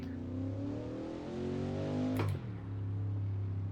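A racing car engine in the Assetto Corsa racing game holds a loud, steady, buzzing drone, with a quick gear-shift blip and a brief dip midway before it settles back.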